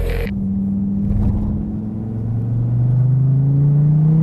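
An SRT Viper GTS accelerates hard along the front straight at Laguna Seca, its engine note climbing steadily in pitch as revs build, loud and close throughout.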